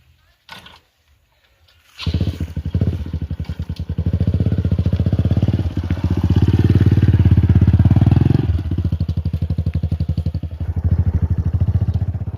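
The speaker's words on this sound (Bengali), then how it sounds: "আমাদের মাঠটা হচ্ছে একটু দূরে তাই বাইক নিয়ে যেতে হবে" A motorbike starts and rides along a rural route toward a potato field, its engine throbbing loudly and close, rising and dipping as the bike moves.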